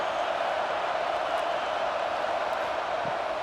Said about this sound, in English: this crowd is fired up. Listen to this noise here.